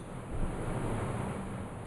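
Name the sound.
wine being poured back and forth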